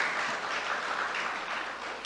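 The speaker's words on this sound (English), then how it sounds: "go ahead, clap, yes." Audience applause at the opening of a community facility in Tacarigua, steady dense clapping from a crowd holding at a moderate level for the full two seconds without talk.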